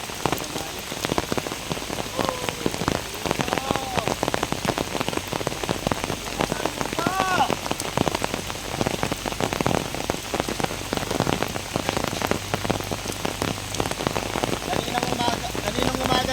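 Steady heavy rain pours onto surfaces outdoors on a wet afternoon, a dense continuous hiss with scattered close drops spattering throughout, with no talking.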